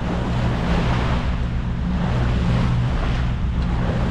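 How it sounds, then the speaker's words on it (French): Sea swell and good-sized waves slap and rush steadily against the hull of a motoring sailboat on a windless day near Port Leucate, with a low engine drone underneath. "Toujours cette houle avec des bonnes vagues."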